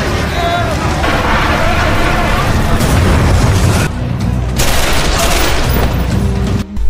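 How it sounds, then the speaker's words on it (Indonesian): Heavy explosion and gunfire in a night-time action film scene: a dense, loud, continuous roar of blasts and shooting that surges and dips briefly before swelling again. "Ledakan besar itu mengagetkan Cleaner Junior dan seluruh bawahannya. Dan setelah itu, peperangan pun dimulai."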